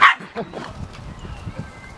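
A pet dog newly adopted at a house in England barks in a short burst, one sharp bark at the start followed by softer yips close by.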